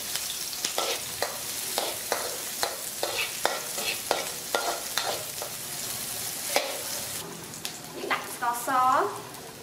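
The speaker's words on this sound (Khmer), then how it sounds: "ឥឡូវយើងចាប់ផ្ដើមឆាយើងដាក់ប្រេងសណ្ដែក" Shrimp stir-fried in soybean oil in a pan, cooked for beef and shrimp lok lak with pepper sauce: a spatula scrapes and clacks against the pan in a steady rhythm over a soft sizzle, close and fairly loud.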